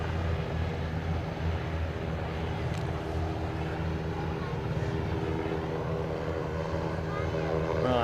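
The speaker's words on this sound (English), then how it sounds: "That is the Gamma Aviation Beech King Air" A Gamma Aviation Beech King Air turboprop departs, its steady propeller drone and engine hum continuous throughout, fairly distant and even in level.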